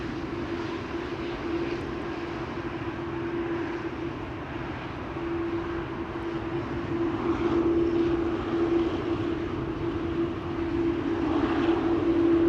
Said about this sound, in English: Cathay Pacific Cargo flight 2066 off to Frankfurt in a moment.